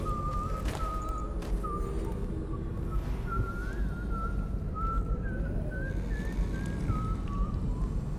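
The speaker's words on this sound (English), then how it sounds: "Oh, what is that song that he's whistling?" A character in the video game Dishonored whistles a wavering tune, a clear melodic line of sustained notes running throughout over a steady low ambient rumble, with no talk.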